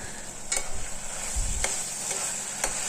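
Gongura mutton curry is stirred in a hot pan, a constant sizzle running beneath intermittent scraping and a few soft low thumps from the spoon, close and moderately loud with no voices.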